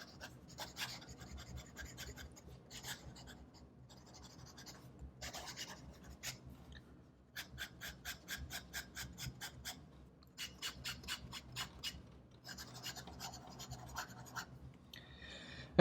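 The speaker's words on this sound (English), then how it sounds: "Okay, we'll try fast writing." A Namiki Yukari Royale fountain pen writes quickly on paper, giving soft, close scratching strokes in quick bursts separated by short pauses, faint and dry with no talking.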